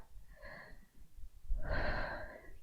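Two audible breaths, a shorter inhale followed by a longer, heavier exhale, come close and fairly loud while someone holds a yoga backbend with lifted hips and open chest.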